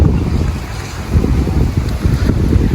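Flood water after heavy rain in Inuvil, Jaffna roars continuously like surf, a loud, close, rushing wash with gusty buffeting and no speech.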